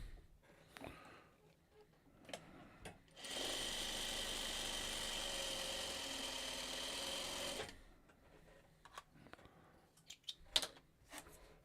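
A sewing machine stitches a seam in one steady, close run of about four seconds, with quieter handling noises before and after.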